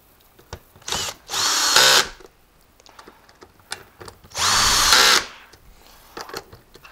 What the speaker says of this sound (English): Next, we're just going to install these screws.